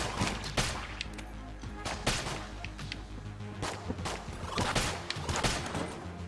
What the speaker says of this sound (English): Yeah, just keep shooting into the wall.